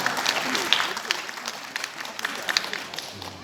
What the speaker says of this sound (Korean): 네, 박수 부탁드리겠습니다.